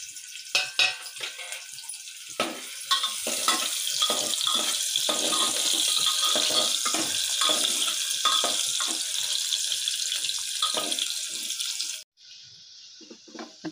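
Finely chopped onion fries in hot oil for a mutton curry, a continuous crackling sizzle with popping bursts that runs loud and steady before abruptly dropping to a faint hiss near the end.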